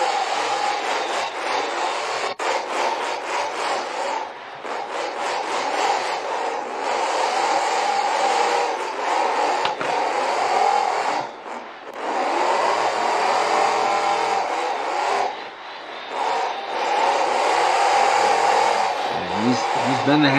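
Race cars in the BeamNG driving game roar continuously, their engine whine holding steady with brief dips and swells as cars jostle and crash on track.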